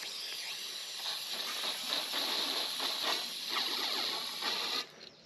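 A steady, sharp hiss of carburetor cleaner spraying through an antique tractor's fuel line, with faint mechanical clicking underneath, running continuously before cutting off abruptly near the end.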